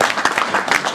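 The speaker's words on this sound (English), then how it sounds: "give yourselves a round of applause" Short burst of applause from attendees at a club's annual general meeting, a quick patter of several people clapping close by.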